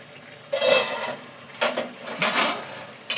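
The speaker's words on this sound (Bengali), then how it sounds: "এবার ঢাকা চাপাটা খুলে দিই" Metal pot lid clanks and scrapes as it is lifted off a pot of simmering bottle gourd curry, a few short bright metallic knocks and rattles in close succession, near and fairly loud with no talk.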